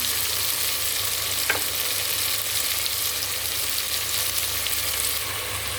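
Ground masala paste frying in a pan for tomato rice, a steady sizzle running throughout with a faint stir scrape partway; close and even, no talk.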